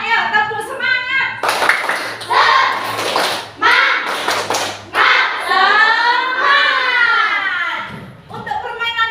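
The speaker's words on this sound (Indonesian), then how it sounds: "kita awali dengan tepuk semangat lagi anak-anak ya" Children in a classroom perform tepuk semangat, a rhythmic spirit clap, with sharp bursts of clapping interleaved with a teacher's voice and children chanting along.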